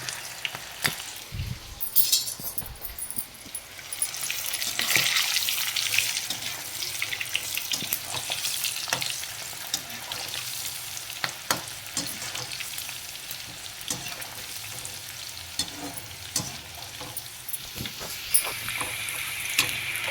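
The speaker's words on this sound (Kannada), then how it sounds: "ಇದರೊಳಗಡೆ ನೀವು ಸ್ವಲ್ಪ ಸ್ವಲ್ಪನೇ ಹೀಗೆ ಹಾಕ್ಕೊಳ್ಳಿ ಹಾಕ್ಕೊಂಡು ಚೆನ್ನಾಗಿ ನೀವು ಫ್ರೈ ಮಾಡಬೇಕು ಅದನ್ನು" Okra pieces frying in hot oil for a crispy bendi fry, a continuous close sizzle and crackle with bursts of stirring and faint water splashes, no talking.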